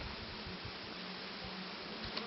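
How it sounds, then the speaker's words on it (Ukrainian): Honeybees fly around outdoor beehives, a continuous soft buzzing drone close by with faint rustling and no talk. "Ось тут ми бачимо, як бджоли. Бджілки літають, працюють."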